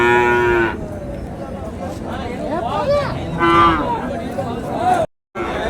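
Cattle lowing at an outdoor cattle market in Krishnagiri district, with several loud, drawn-out moos close by and a murmur of people talking in the background.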